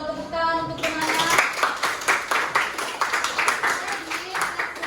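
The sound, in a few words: classroom students clapping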